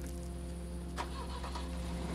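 A car engine in the survival game Overland runs with a steady low hum from start to finish, and a brief catch near the middle suggests it being started. The sound stays constant and fairly close, with no talking.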